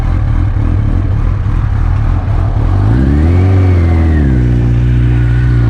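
A Kawasaki Ninja H2 motorcycle engine idles loudly up close, then revs up sharply with a rising whine and settles back down, the throttle blips clearly audible over a steady engine drone.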